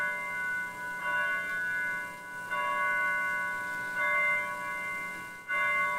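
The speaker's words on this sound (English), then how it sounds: "that was the first bell" The first bell before a Bible class rings at a South Yukon auditorium, a soft, repeated chime sounding about every second and a half over steady room hiss, faint and somewhat distant.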